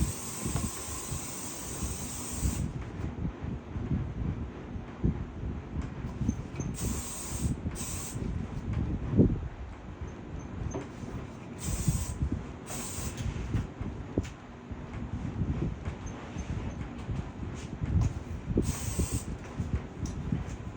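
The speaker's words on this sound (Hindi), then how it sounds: "hair spray" Hair spray misted onto teased hair during a mermaid hairstyle session, a steady close hiss running the full twenty seconds with a few brief louder bursts as the nozzle is pressed; no talking.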